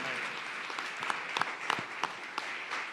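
Church congregation applauding at a Pentecostal-style service, a steady wash of clapping from many hands with a few sharper claps standing out, moderately loud and sustained throughout.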